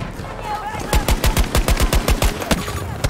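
Rapid bursts of automatic gunfire in the shooter game Breakthrough, a dozen sharp close shots in quick succession, some spaced, with faint talk underneath.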